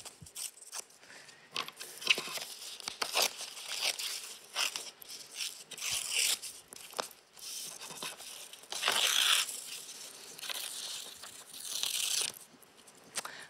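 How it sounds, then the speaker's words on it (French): Paper words cut from a sheet being torn apart by hand, a run of ragged tearing and crinkling bursts at moderate closeness, with no talking. "On peut les déchirer aussi si on n'a pas de ciseaux."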